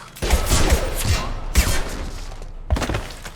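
Gunfire in the sci-fi video game Mass Effect 2: heavy, booming shots come in three separate loud bursts, each with a rumbling thump and scattered cracks, separated by short pauses.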